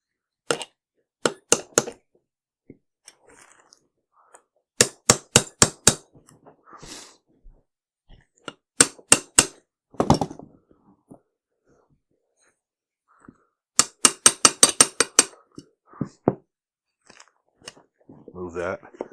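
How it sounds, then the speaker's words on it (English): A hammer taps a rifle part into the receiver on a Brownells Retro Rifle A1 build. Sharp, clicky taps come in quick clusters with quiet gaps between them, and soft speech can be heard among them. "I'm just going to give this a couple taps just to start it"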